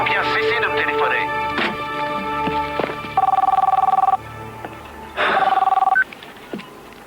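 A telephone rings in short electronic bursts, two distinct ringing spells separated by a pause, over an earlier stretch of tonal music and clicks.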